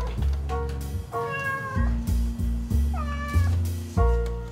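A cat meows repeatedly in several drawn-out, rising calls at close range, with a low steady rumble beneath and no talking.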